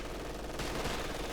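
Sustained in-game gunfire from Company of Heroes 2, with Sturmgewehr assault rifles trading shots against M1 carbines, a dense continuous rattle that swells slightly midway through.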